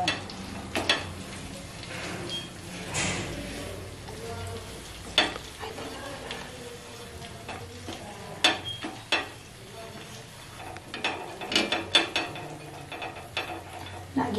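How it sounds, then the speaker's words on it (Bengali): Oil is brushed over a hot tawa griddle while making chicken roast, giving a steady sizzle and crackle with scattered scrapes and light taps of the brush against the metal. Nobody speaks. "তাওয়া বসিয়ে এবার আমি একটা ব্রাশ করে তাওয়াটাকে পুরো লাগিয়ে নেব"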